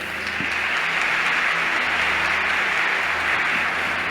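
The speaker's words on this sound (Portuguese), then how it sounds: "Uma salva de palmas para Ele." Sustained, loud applause from a church congregation, many hands clapping in an even roar that holds throughout with no voices over it.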